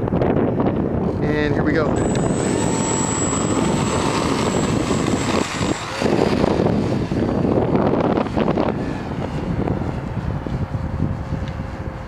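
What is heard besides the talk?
strong wind blowing during a windy RC trainer plane flight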